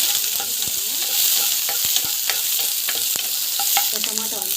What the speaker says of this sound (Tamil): ஆனியனும் மிளகா போடுறேன் வதங்கிட்டோம்